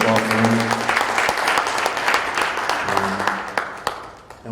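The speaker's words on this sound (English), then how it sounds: "Round of applause for him." An audience at an elders' honouring event gives a round of applause, steady clapping throughout that tapers off toward the end, with faint voices beneath.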